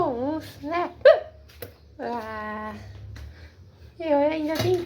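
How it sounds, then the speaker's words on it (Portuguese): A cartoon character hiccups repeatedly in the animated series Sol e Suwyz, sharp abrupt catches mixed in among voiced cries and talk, with several distinct hiccup bursts through the clip. "é que eu tô com soluço"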